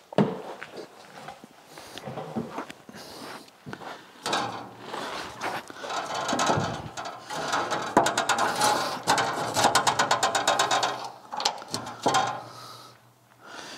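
Ratchet tightening bolts on new side steps for an old rusty truck, quick clicking runs of the pawl in several bursts alongside metallic clanks and handling noises, close by.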